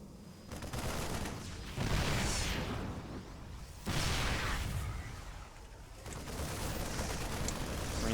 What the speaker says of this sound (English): Tank firing continues